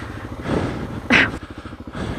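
A motorcycle engine strains in gear while climbing a hill on a Slaughterhouse Gulch trail, a steady mid-pitched drone with a sharp revving surge near the middle before settling back to a labored rumble.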